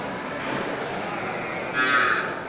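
Bali cattle moo at a crowded cattle market, a drawn-out low call rising through steady background hubbub and nearby chatter.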